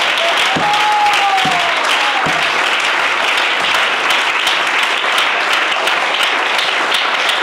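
A church congregation bursts into steady, loud applause, dense clapping sustained throughout with a brief whistle near the start and no speech over it.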